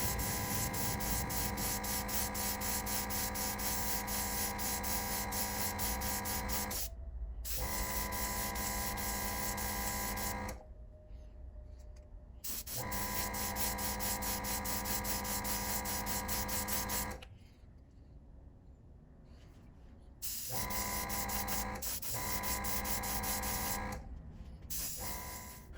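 Spray gun painting a custom 1964 Nova gasser wagon, a loud continuous hiss with a steady tonal hum, cutting off in several short pauses between passes, no voices.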